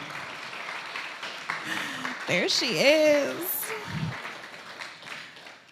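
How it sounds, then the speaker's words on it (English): A church audience applauds softly in the background, a steady patter of clapping under a voice speaking and whooping over it. "Let's give her a huge round of applause."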